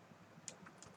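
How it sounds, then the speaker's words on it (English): Quick keystrokes on a computer keyboard, two or three crisp clicks close to the microphone over a faint background hum. "here I'm going to type here something like"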